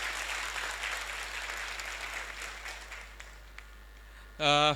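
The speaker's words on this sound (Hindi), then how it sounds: "प्लीज़ उनका स्वागत करें, प्लीज़ बड़े ज़ोर से तालियां बजाइए।" A seated audience at a Mumbai real-estate association awareness event applauds a guest of honour, sustained clapping that fades out, followed by a brief burst of a voice on the PA.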